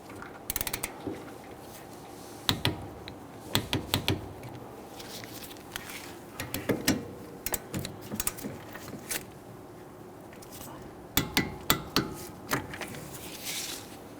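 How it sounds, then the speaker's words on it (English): A torque wrench tightens the rear brake caliper bolts on a 2010-2019 Ford Taurus, giving bursts of quick ratcheting clicks in uneven clusters, close and moderately loud with quiet gaps between. "Torque down our caliper bolts to 24 foot-pounds."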